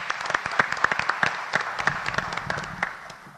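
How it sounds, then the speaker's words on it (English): Brief round of applause for retiring school district staff at a board of education meeting, a small group clapping steadily at moderate distance, sharp individual claps standing out before it thins toward the end. "If we just want to give a round of applause after each name."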